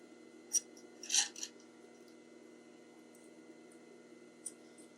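Scissors cut fabric at an angle while sewing a roll-up tote bag, a few quiet snips, one short cluster in the middle and a faint final snip, over a low steady room hum.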